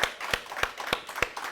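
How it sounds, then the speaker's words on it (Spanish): A church congregation claps in unison at a steady rhythm of about three sharp claps per second. The claps are crisp and evenly spaced, with no voices. "Así que démosle un aplauso al Señor"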